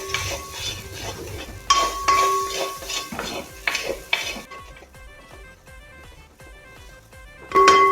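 Chicken fried rice is stirred and tossed in a metal pan, with repeated spatula scrapes and sharp clinks against the pan, loud and close, with a faint sizzle between strokes.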